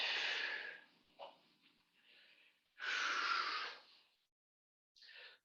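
Deep breaths drawn during a hamstring stretch in a home workout, with several long, loud breaths separated by quieter gaps, close to the microphone and with no talking.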